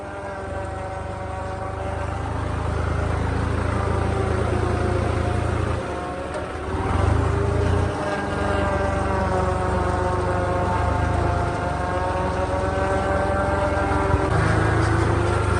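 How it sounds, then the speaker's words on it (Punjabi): A tractor's diesel engine runs steadily at about 800 rpm in second low gear, a constant deep rumble with slight shifts in pitch, close by and loud. "ਆਪਣਾ ਟਰੈਕਟਰ ਦੂਜੇ ਲੋ ਦੇ ਵਿੱਚ 800 ਚੱਕਰ ਤੇ ਕਰਦਾ"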